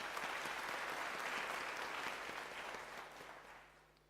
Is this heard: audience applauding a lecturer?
yes